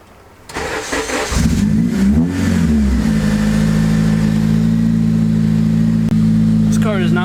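A 2JZ-swapped Honda Civic cranks briefly, catches and starts, surges with a rev, then settles into a loud steady idle close by.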